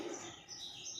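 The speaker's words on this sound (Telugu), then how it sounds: "ఆ పిట్టలు ఇప్పుడు మా ఇంట్లో గూడు పెట్టినాయి." Small birds nesting inside a house chirp faintly in thin, high twitters over a quiet indoor background.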